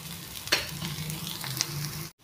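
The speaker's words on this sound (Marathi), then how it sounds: "हेल्दी ब्रोकोली टिक्की मस्त शॅलो फ्राय झालेली आहे." Broccoli tikki patties shallow frying in oil in a pan, a close, steady sizzle with crackling pops and a sharper spatter or two, continuous throughout before a brief break at the end.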